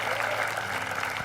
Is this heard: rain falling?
no